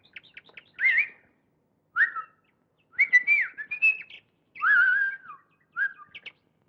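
Pet birds chirp and whistle in a series of about six short, bright bursts with clear pauses between them, close and fairly clean against a quiet background.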